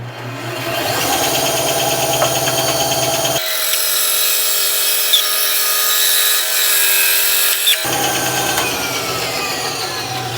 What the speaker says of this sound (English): I'm actually probably just going to cut this piece right in half.